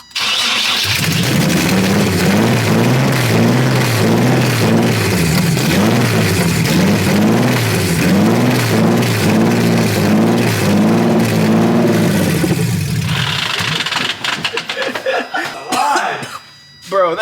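Drift truck with a freshly swapped engine cranking over and catching, then running rough and revving unevenly for about twelve seconds before cutting out, loud and close, with voices mixed in.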